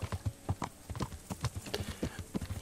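Horse hooves clip-clop in a quick, steady rhythm as a horse is ridden in the video game Kingdom Come Deliverance, close and clear with no talking.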